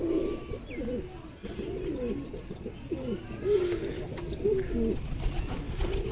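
Teddy pigeons coo in repeated low, throaty rolling calls, fairly close, over a faint background hum with a few distant chirps.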